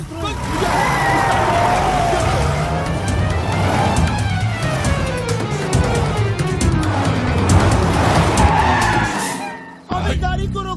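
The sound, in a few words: car driving away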